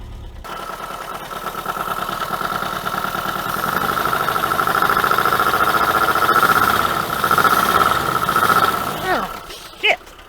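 A 1980 Dodge Colt Challenger engine runs just after a carburetor install: a steady, close idle with an even mechanical hum and a whining tone that swells slightly midway, then a brief knock near the end.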